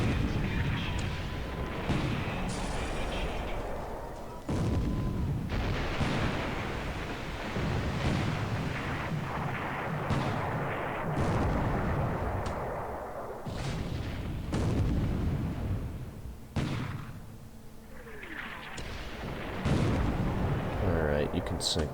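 Torpedo hits on a tanker in the War in the Pacific naval war game produce repeated deep, booming explosion blasts with rolling rumble and splashes, sustained through the stretch alongside talking.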